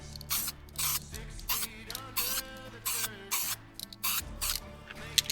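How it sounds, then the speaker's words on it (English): Spray paint hisses onto a rust-repaired panel of a V8 VT Commodore outdoors in light wind, coming as a series of short, close bursts about half a second each, spaced evenly with brief pauses between passes. "and then spray paint it."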